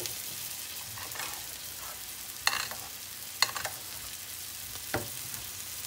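Steak frying in hot oil on a stove turned up high, a steady low sizzle with a few sharper crackles and spits popping out near the pan, no voices over it.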